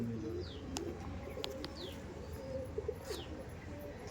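Pigeons in a loft give soft, low coos, with a few short chirps and faint flaps over a quiet background hum, all fairly close and subdued.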